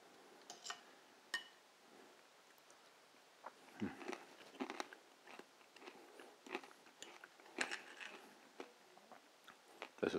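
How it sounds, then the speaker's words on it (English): Someone bites and chews crunchy pancetta with grilled white asparagus and brown butter hollandaise, soft close crunches and clicks repeating irregularly at a quiet level with no talking. "Has a nice crunch from the pancetta"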